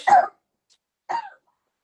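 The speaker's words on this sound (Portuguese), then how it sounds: "minha sobrinha tossindo, tadinha." A child gives two short coughs, a brief pause between them, close by and fairly soft, with silence around them.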